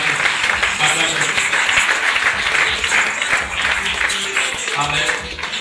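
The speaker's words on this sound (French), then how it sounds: "Bon, mes enfants, allez les mains. Les mains. Acclamez-donc pour la gloire de Dieu." A church congregation claps hands continuously in a dense, sustained burst of applause, loud and close, with voices calling out over the clapping throughout.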